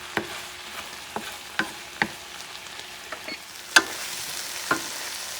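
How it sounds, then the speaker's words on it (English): A sauce of peppers and tomatoes simmers in a pan for a shrimp and pork spinach fettuccine, with a soft steady sizzle and a series of spaced utensil scrapes and taps, one sharper knock near the end; no talking. "That will thicken the sauce a little bit and make sure some of these peppers and tomatoes are a little bit more cooked."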